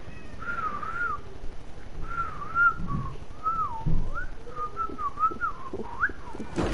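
A person trying to whistle, producing a series of wavering, warbling whistled notes with short pauses between them, close and fairly loud against light background noise.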